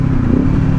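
Kawasaki Ninja 500 motorcycle (2024) fitted with a cheap Amazon slip-on exhaust, giving a loud, close, steady low engine drone with a rough rumbling edge, alone and without talk.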